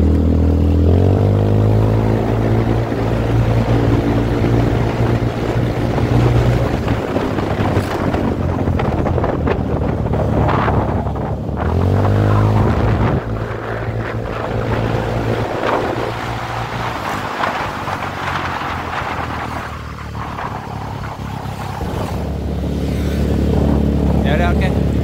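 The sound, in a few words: Yamaha Freego 125 scooter with 59mm bore-up accelerating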